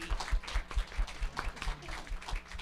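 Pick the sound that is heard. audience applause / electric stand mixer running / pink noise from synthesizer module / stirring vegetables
audience applause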